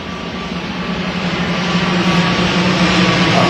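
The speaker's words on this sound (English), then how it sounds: "I didn't call the plane to come here." An airplane passes overhead during an outdoor political rally at a stadium in Yio Chu Kang, a loud, broad, steady engine roar that swells gradually across the moment.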